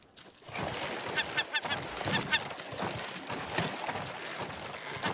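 Seagulls squawking in a video game: repeated harsh honking calls over a noisy, busy game soundscape, with several sharp cries bunched together and a steady wash of background noise.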